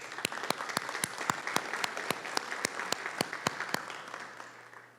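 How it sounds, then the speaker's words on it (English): Sparse, distinct hand claps from a small audience at an annual town meeting, a dozen or so sharp claps in a loose rhythm over quiet room noise, fading toward the end. "Let's give that a round of applause."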